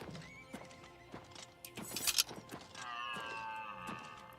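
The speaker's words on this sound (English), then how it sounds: "I hear a horse, but I don't see it." Horse hooves clip-clopping and a whinnying neigh in Oblivion Remastered, a medieval fantasy video game, close and clear with game music and ambience, the neigh rising near the middle and sustained tones following.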